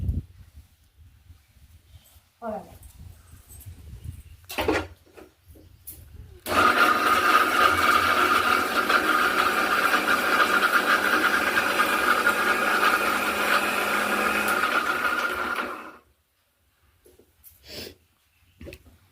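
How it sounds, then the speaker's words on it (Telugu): A loud motorized grinder whirs continuously for several seconds while coarsely grinding masala spices, then stops, with quieter scattered handling noises before and after. "కచ్చాపక్కగా మసాలా మంచిగా దంచేస్తాను చూడండి"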